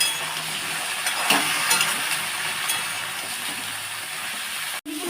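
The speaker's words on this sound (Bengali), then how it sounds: "আচ্ছা আমি নাড়বো আনাজগুলো" Vegetables being stirred in a frying pan for a Bengali chorchori of green banana, eggplant, potato and lentil dumplings with palta leaves; a steady sizzle runs throughout with light scraping and clinks, one brief gap near the end.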